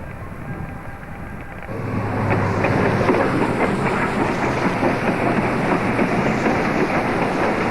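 SAR 621 steam locomotive with its train at Ballarat station, a steady rolling rumble and clatter of wheels building up after a quieter start, loud and continuous with no talk.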